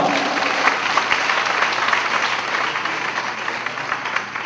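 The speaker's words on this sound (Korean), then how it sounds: "박수 환영합니다" A church seminar audience of ministers applauds to welcome a visiting pastor of Hwarang Church, steady dense clapping from a large hall that holds at an even loudness throughout.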